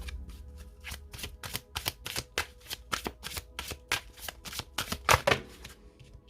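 Oracle cards being shuffled by hand, a rapid run of crisp riffling slaps repeating steadily for several seconds, close and clear with no talking.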